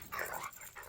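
A police dog gives a short, close growl with whimpering edges, brief and fairly loud, with no one talking over it.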